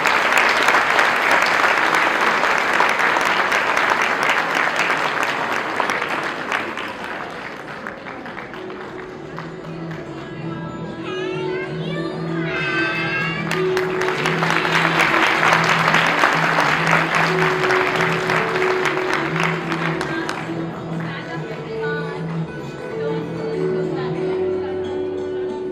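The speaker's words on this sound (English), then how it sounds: "Let's give them a big round of applause." A school audience at a UKG students' Ramayana musical presentation gives young performers a big round of applause. Loud, sustained clapping swells and eases in waves while sustained musical tones play underneath through the middle.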